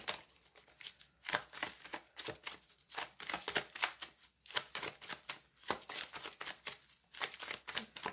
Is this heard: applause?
no